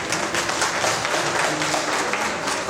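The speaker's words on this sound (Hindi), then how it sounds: "एक बार हमारे सर के लिए जोरदार ताली।" A short stretch of dense, steady clapping from a crowd at a training session, fairly loud and close, without pauses.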